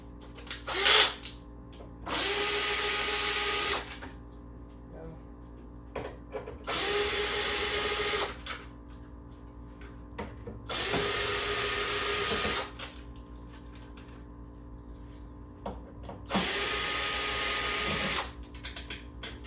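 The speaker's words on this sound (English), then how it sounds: "the next step is going to be removing the screws from the top of your control panel" A power drill backs screws out of the top of a four-player upright arcade control panel in four separate whirring bursts, each about two seconds long, with quiet pauses between them.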